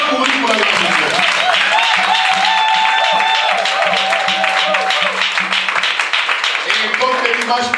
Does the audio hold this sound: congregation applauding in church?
yes